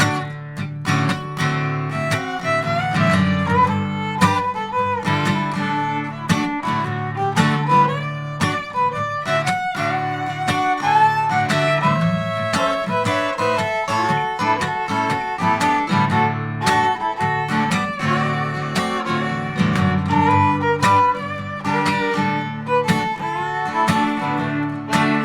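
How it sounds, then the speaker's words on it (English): Performance of the gospel song "Where Could I Go But to the Lord," written by James Buchanan in 1940, a loud, full, sustained musical passage with steady harmonic texture and no talking. "This next song is called Where Could I Go But to the Lord?"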